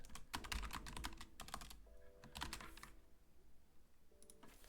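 Typing on a computer keyboard: quick bursts of crisp key clicks in uneven clusters with short pauses, close and fairly quiet, with faint tonal hum between bursts.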